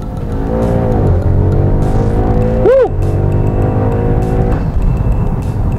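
An Audi RS6 accelerating hard with loud, roaring intake noise, heard close and continuously, with engine pitch rising through the gears and brief dips at the shifts.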